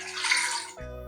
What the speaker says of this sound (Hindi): कढ़ाई में डालेंगे 1 कप पानी।